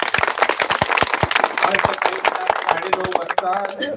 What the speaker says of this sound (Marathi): आपल्यासाठी एक मोठा टाळ्यांचा हात होऊन जाऊ दे टाळ्यांचा खडखडाट